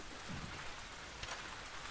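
Steady rain hisses in The Last of Us, a faint, even patter with a soft thump or two, with no voices.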